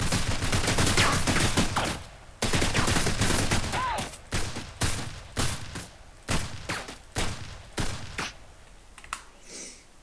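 Rapid bursts of gunfire from a second weapon in an Unreal Engine 4 first-person shooter game: a sustained automatic stream at first, then a series of separate short volleys with brief gaps between them, loud and close.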